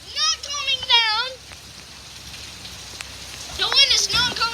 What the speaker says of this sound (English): The rain is being pushed by the wind right now.